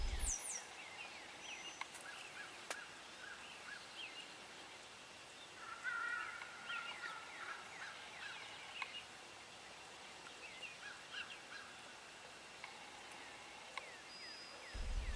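Wild turkeys gobble from several directions around a field during spring turkey season, with bursts of calls scattered across a steady outdoor background, fairly distant, plus faint other bird calls.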